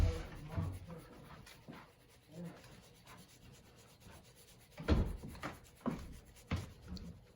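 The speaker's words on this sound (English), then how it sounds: "I'm using kind of really fast oval pencil strokes, and I'm putting down, for now, a very flat shadow" Rapid pencil strokes shade a flat shadow onto paper, a soft scratchy rubbing in quick bursts that swell and fade, close and fairly quiet with no talk.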